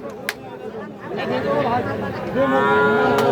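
Calves and cattle at a weekly village livestock market, lowing close by amid steady crowd chatter and hubbub, with voices talking throughout.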